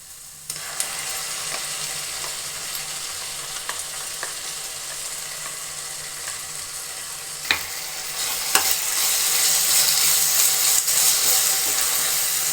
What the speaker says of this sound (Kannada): ಚೆನ್ನಾಗಿ ಹಸಿ ವಾಸನೆ ಹೋಗೋ ತನಕ ಹುರ್ಕೋಬೇಕು.